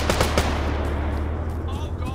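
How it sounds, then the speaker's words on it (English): Arma 3 tank firing in a military game: loud close blasts in quick succession with a rumbling low-end tail, alongside voices in the mix. "Tank firing."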